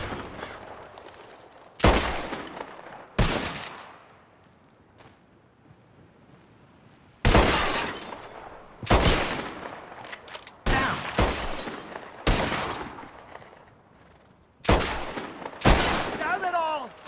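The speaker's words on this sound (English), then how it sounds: "Whoever shoots more of these bottles wins." Revolver shots shattering bottles in a Red Dead Redemption 2 shooting contest on Xbox One: a string of sharp, loud gunshots in an uneven rhythm, each with a brief ringing tail, over quiet ambient background.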